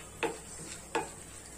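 Chana dal and urad dal frying in oil, with two short scraping stirs cutting through a faint, steady sizzle.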